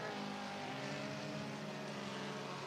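Dirt-track race cars at Cottage Grove Speedway in Oregon roar in a steady, dense engine drone during a late-race lap, the sustained pack noise continuous and fairly distant with no talk.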